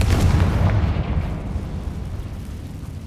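A Confringo fire spell bursts in the Hogwarts Legacy video game, a loud, rumbling blast that booms at once and then rolls off into a long, fading low roar with no talk.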